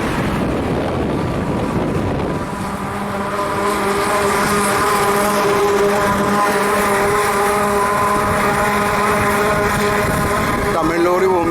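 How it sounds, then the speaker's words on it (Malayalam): A Tamil lorry rumbling past on a road, its engine drone rising and holding steady with a strong harmonic whine, loud and close, with wind buffeting the microphone throughout. "തമിഴ് ലോറി പോകുമ്പോൾ ഇങ്ങനൊരു ശബ്ദം."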